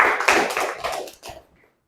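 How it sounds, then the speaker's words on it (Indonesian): A classroom group gives a brief round of hand clapping for group 3, a short patter of claps close by that fades out within about a second and a half. "Kita beri aplaus untuk kelompok 3."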